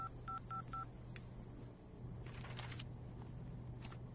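Telephone keypad dialing tones: three short, evenly spaced beeps at a low level over a steady background hum, then faint clicks and rustling.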